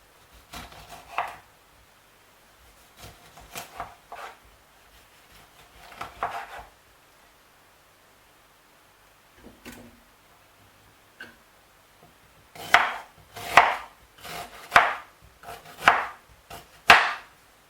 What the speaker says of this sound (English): So we're going to chop everything in bits and put it in the bottle.